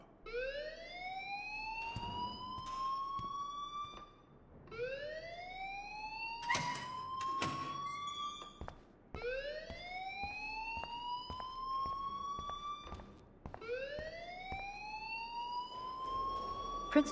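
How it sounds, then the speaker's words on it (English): A school alarm in the video game Life Is Strange rings in repeated rising electronic whoops, each lasting a few seconds, steady and prominent with brief clattering noises between. "please turn off that alarm since that's your job"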